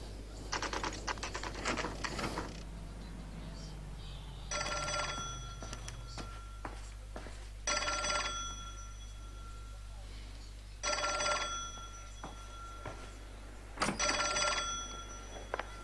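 An old-style telephone bell rings in the video game L.A. Noire, sounding in four separate bursts a few seconds apart, moderately loud over a busy office ambience with typewriter-like clatter at the start.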